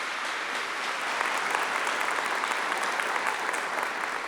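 A church congregation bursts into sustained, dense applause that holds at an even, loud level throughout, with many hands clapping at once and some faint voices mixed in.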